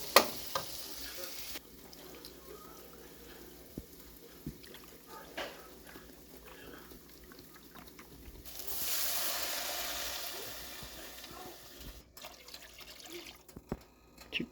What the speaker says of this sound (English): After the onions cook up a little bit more.